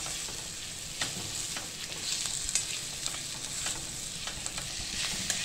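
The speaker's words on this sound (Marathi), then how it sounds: "फक्त मऊ होईपर्यंत आपल्याला कांदा भाजून घ्यायचा आहे" Onion sautéing in a pan until soft, a low continuous sizzle with occasional light clicks and scrapes of stirring, quiet and steady throughout without any voices.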